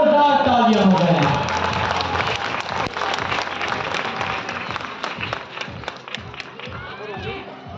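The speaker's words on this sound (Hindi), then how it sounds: "जोरदार तालियां हो जाए।" Audience applause at a school annual day sports event on Commonwealth ground in New Delhi: sustained dense clapping from a crowd, loud at first and easing slightly, with an announcer's voice over it.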